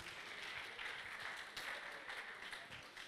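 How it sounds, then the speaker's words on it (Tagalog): Loud, steady applause from an audience clapping for the fathers present, a dense wash of hands filling the whole stretch without a break. "isang mga malakas na palakpak para sa ating mga tatay"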